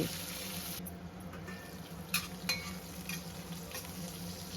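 Garlic cloves and green chillies fry in a pan for fried rice, a soft steady sizzle with a few louder scraping stirs.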